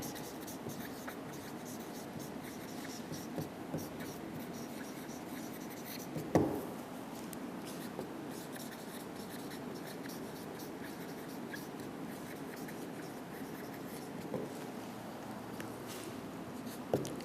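Chalk or marker scratching on a board during a school science lesson on plant and animal cells, a steady faint writing patter running through with a couple of sharper taps, no talk over it.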